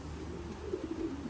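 Racing homing pigeons cooing softly inside their loft, a low murmuring coo repeating several times in the background over a steady ambient hum.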